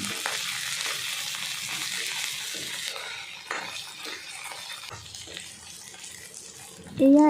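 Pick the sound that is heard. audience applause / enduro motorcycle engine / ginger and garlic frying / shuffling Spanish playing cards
ginger and garlic frying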